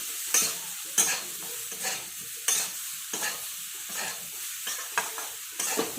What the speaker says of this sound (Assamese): নিমখখিনি দি ভালকৈ মই লাৰি ল'লোঁ মিক্স কৰি।